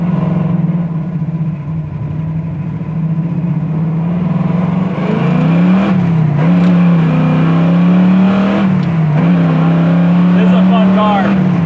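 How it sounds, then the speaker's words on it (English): Big-engine 1978 Camaro Z28 idling at about 500-600 RPM: a steady low burble with a lumpy, pulsing tone that holds throughout, while people talk over it. "Even with that big motor, idling right now at about 500-600 RPM."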